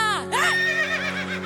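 A horse whinnies loudly and clearly in a single call of about a second. It rides over a steady sustained musical drone in a devotional song for a temple puja to Sri Palathu Karuppannasamy.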